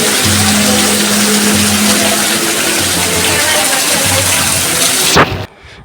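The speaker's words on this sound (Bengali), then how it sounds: "দেখো কি জোরে বৃষ্টি হচ্ছে" Heavy rain pours onto a street in a loud, dense, steady wash of noise that cuts off abruptly near the end, leaving only faint background.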